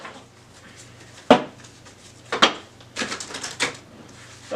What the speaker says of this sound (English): Sorry if my shuffling is a bit noisy.